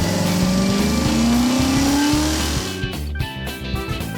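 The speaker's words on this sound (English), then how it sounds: "George happily drives the car around the room." A cartoon toy car drives around a room, its engine revving upward in a rising whine over music before settling into a lower, uneven idle.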